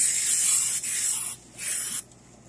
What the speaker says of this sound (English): We're going to spray our bowl.